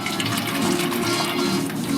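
Tomato bisque poured into a small kitchen strainer, a steady close liquid gush lasting the whole moment with no talk.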